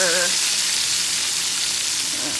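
Pork chops fry in a hot pan with a steady, close, loud sizzle that fills the whole moment, with a brief tonal clink near the start and no talking.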